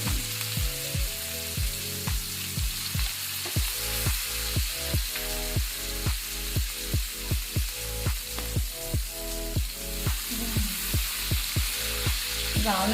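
Fish frying in hot oil in a pan at home, a steady close sizzle with a rapid run of regular crackling pops throughout.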